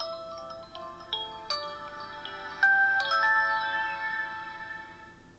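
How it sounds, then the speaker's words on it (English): A Servo i16 flip phone plays its boot-up song, a bright, tinny electronic melody of separate tones that rises in loudness toward the middle and rings out alone without any talk. "your phone just had to play a song when you booted it up"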